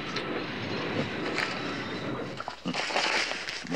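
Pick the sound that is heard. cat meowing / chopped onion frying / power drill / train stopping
train stopping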